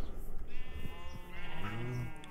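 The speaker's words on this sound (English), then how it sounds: "Hang on, I have to deal with this sheep." A sheep in the Minecraft video game bleats in a drawn-out, wavering call, loud and close, over steady background game ambience.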